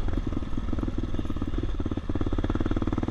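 An off-road motorcycle engine runs steadily and fairly quietly during a ride in the Pine Barrens, with a low, even, rumbling pulse and no voices.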